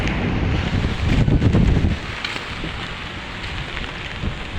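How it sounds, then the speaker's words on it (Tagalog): Strong wind during a typhoon buffets the microphone with a roaring, gusty rush, heaviest in the first two seconds, with rain-like hiss throughout. "Mahangin ho."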